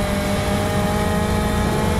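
A truck engine drones steadily in a police car demolition video game, a dense continuous rumble with no pauses and no voices.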